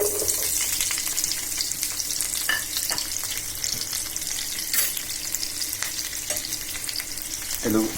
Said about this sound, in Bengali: আর আরেকটা চুলায় আমি কড়াইতে তেল দিয়ে দিছি। এবার কেটে রাখা পেঁয়াজ রসুন দিয়ে দিচ্ছি।